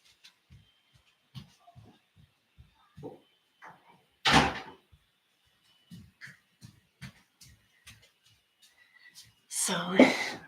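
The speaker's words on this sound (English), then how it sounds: "I'm just going to close my door for the little ones." An indoor door is pushed shut in a home, making one fairly loud thud midway through, amid soft scattered knocks and handling noises, followed by a burst of voice at the end.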